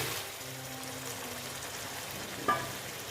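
Boiled peas going into a hot frying pan for ghugni, a steady close sizzle with a brief clatter and splash partway through.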